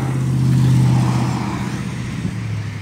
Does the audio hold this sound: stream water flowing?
no